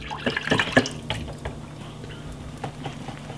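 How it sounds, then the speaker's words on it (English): Milk is poured into a pot of Jamaican green banana porridge, giving a short liquid splashing and glugging burst near the start, then fading into faint bubbling and stirring. "I pour a little bit of milk inside of it"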